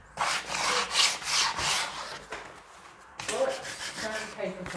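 Sandpaper distressing painted wood, close rhythmic rasping strokes in quick bursts, with a short pause before the scrubbing resumes.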